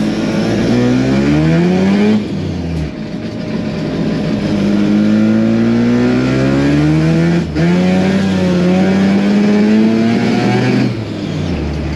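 A Datsun 1600 fitted with a 13B rotary engine drives and revs, its loud, raspy engine note climbing and falling through several gear changes up close, with no talking.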